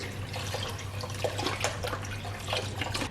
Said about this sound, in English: it's just 4 cups of water and then 4 cups of beef broth. Just pour that in.